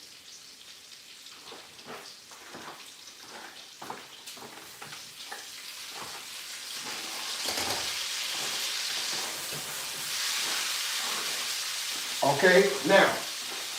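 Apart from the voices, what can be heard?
fresh green beans sizzling in a skillet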